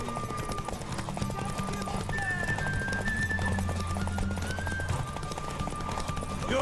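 Horse hooves clip-clop steadily in The Witcher 3 video game, a brisk, continuous rhythm close up, with a brief whinny and voices over ambient game sound.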